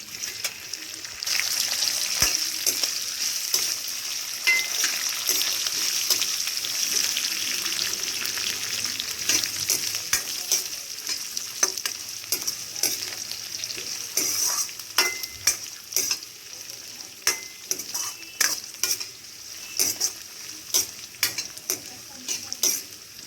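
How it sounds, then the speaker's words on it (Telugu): Curry leaves frying in hot oil for a coconut rice tempering give a steady, close sizzle with scattered stirring clicks and spatter pops throughout, with no talking. "పచ్చి వాసన పోయే వరకు వేయించుకోవాలి."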